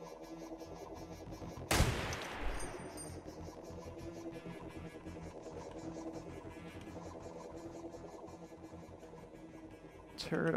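An automated turret firing in Receiver 2 lets off a sharp loud burst of shots, then goes quieter under a steady hum of game ambience and faint talk, with another burst at the very end.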